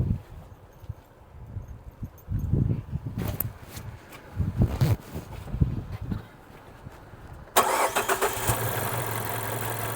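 A car engine cranks for several seconds with uneven starter churning, then catches and settles into a rough, unsteady idle that continues loudly to the end.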